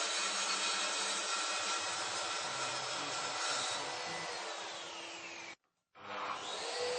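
A Mafell MT55 plunge saw runs along its guide track cutting wood, a loud sustained whine with grinding texture that fades slightly before the blade stops abruptly, then spins back up.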